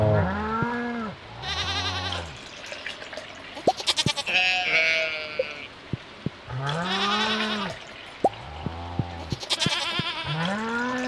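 Goats in a farm video game bleat repeatedly in a bouncing, wavering pattern, the cries coming in regular bursts with clicky interface sounds and a watery chime in the gaps.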